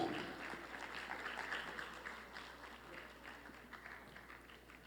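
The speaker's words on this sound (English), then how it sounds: "Please give a round of applause once again, ladies and gentlemen" An audience gives a faint, distant round of applause after a panel discussion on preserving inter-faith and ethnic tolerance. The clapping is a continuous patter that slowly dies down.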